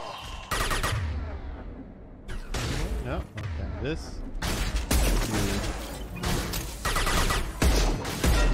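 Heavy hand cannon gunshots boom in bursts in a video game, several loud blasts with mechanical clatter between them, while a voice talks over the action.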